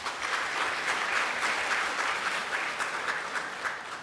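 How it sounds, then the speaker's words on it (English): A packed hall of students at a postgraduate orientation applauds their parents, steady dense clapping with slight swells, holding for about four seconds. "A round of applause to your parents"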